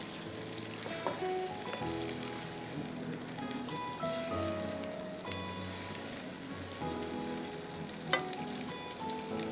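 Chicken pieces fry in a pan for a Pakistani koyla chicken dish, a steady low sizzle with soft crackle and occasional stirring clinks, no voices.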